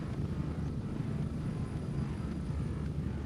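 Four military helicopters approach a landing zone in Gray Zone Warfare, a steady low rotor and engine drone filling the background without pause, fairly loud and constant throughout.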